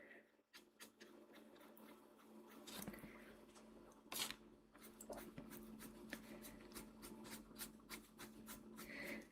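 Soft scratchy rubbing of a colored pencil blending color on paper in a coloring book, quick irregular strokes close by, quiet with faint background hum.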